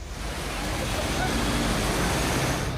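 Rushing floodwater pouring through streets of Sikar, Rajasthan after torrential monsoon rain, a steady, dense roar of churning water that holds loud and unbroken throughout.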